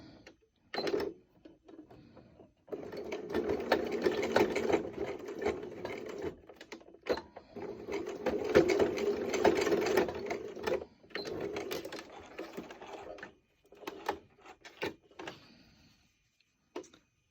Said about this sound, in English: we're just going to baste these together with about a little over 1/8 of an inch